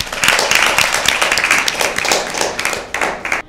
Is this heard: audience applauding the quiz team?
yes